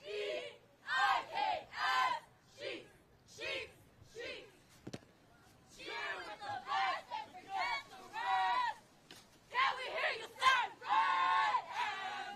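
Hollywood High School cheer team shouting rhythmic chants in unison at a cheer championship, bursts of loud group voices with short pauses, crowd noise mixing in behind.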